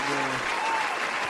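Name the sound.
applause for a special guest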